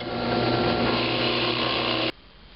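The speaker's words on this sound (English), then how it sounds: "One way is to start off with your 3/4-inch bit and drill a very shallow hole." A power drill with a 3/4-inch bit bores a shallow hole in wood, giving a steady, loud whirring grind for about two seconds before cutting off abruptly.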